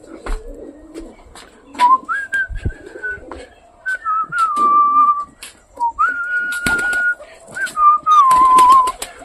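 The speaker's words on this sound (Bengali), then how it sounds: "চলো এবার যাবো আমাদের হাই ফ্লাওয়ার পায়রাগুলোর কাছে" High flyer pigeons call repeatedly with rising whistle-like notes, alongside scattered clicks, taps and wing flutters, fairly close by.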